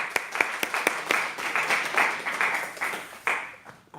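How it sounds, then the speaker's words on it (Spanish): A church congregation at a Spanish-language Bible study claps, a close, uneven round of applause with several sharp individual claps standing out, tapering off near the end. "y este aplauso, amado mío, es para ti"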